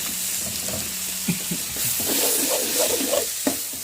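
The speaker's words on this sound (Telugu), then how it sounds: "పచ్చిమిరపకాయ టమాటా కూడా వేసేసుకొని బాగా కలపెట్టుకోవాలి" Onions, green chilies and tomatoes sizzle steadily in a pan for an egg punugulu curry, with a spoon stirring and scraping through the mix in several distinct knocks over the frying hiss.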